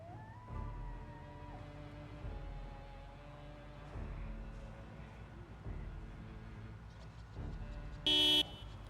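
A car horn sounds one short, loud beep near the end while driving in the video game Project Zomboid, over a steady low engine rumble and faint ambient tones.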